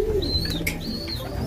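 A racing pigeon coos nearby in a loft at a pigeon race, soft throaty calls mixed with a few thin whistling chirps against a steady background hum, no speech.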